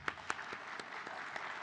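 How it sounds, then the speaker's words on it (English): Conference audience applauding at a spine-research prize ceremony, heard quiet and somewhat distant: a soft, even patter of clapping with a few sharper individual claps standing out over roughly two seconds. "Big applause."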